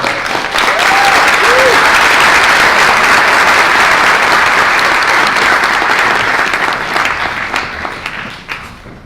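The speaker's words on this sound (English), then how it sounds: "let's give a huge round of applause for Reverend Kenneth Curry" A large audience at a Black History program and soul food luncheon breaks into loud, sustained applause for Reverend Kenneth Curry, dense clapping filling the space and slowly tapering off at the end.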